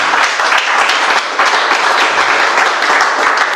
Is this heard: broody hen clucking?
no